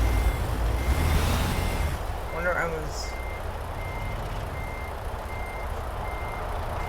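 A truck gives off a steady string of evenly spaced reversing beeps as it backs up on a construction vehicle haul to Illinois, with an engine rumbling underneath and someone speaking briefly over it.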